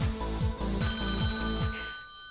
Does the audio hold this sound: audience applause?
no